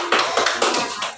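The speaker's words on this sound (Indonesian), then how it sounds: "Tepuk tangan semuanya." A class of students claps hands together in a brief burst of uneven, tapping claps lasting about a second, close and fairly loud with no talk.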